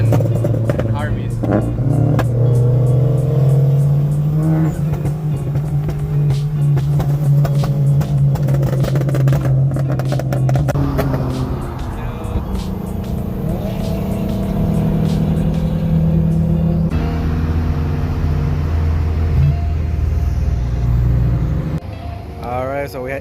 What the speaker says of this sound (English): right here you can hear the difference from his and Harvey's.